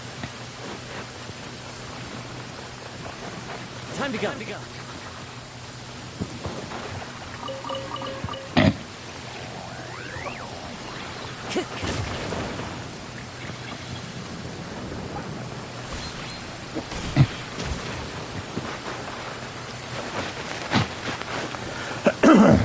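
Steady rain hisses across an outdoor area of houses in a video game, a dense, constant wash with scattered louder knocks and splashes and no distinct thunder; a voice speaks briefly near the end.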